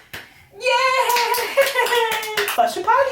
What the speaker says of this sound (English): Cade, can you clap for Cade?